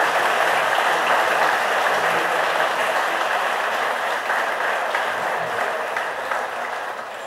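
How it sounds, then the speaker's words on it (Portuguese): A church congregation claps steadily and loudly throughout, a dense, sustained round of applause that tapers slightly toward the end. "Vamos aplaudir o Senhor Jesus para a vida do seu pastor"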